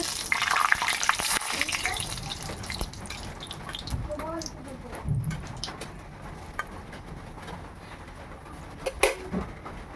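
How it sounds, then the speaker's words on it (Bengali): Two dried red chillies fry in hot oil in a wok, giving a steady crackling sizzle with occasional stirring clinks, heard close; a voice talks at moments over the frying. "আমি কড়াইয়ে তেল গরম বসিয়েছি দিয়ে দিলাম দুটো শুকনো লঙ্কা"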